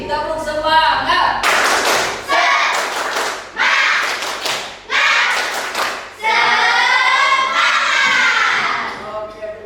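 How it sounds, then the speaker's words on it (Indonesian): A class repeats a rhythmic 'tepuk semangat' clapping chant, with loud group clapping in quick patterned bursts alternating with children's chanted voices, close in a classroom. "Kurang semangat sekali lagi. Tepuk semangat."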